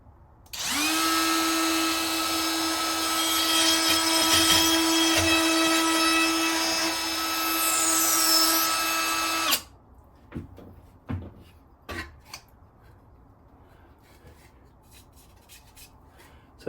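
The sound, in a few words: plunge router with straight cutter cutting a hole in a template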